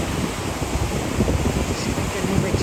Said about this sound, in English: this is what the spillway looks like with the water going down the spillway